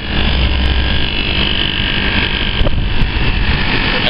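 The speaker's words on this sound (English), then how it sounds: "That's the outdoor fan running." Weatherwall FM61H air conditioner outdoor unit running with its fan and compressor, a steady close droning hum with broadband whoosh and no pauses.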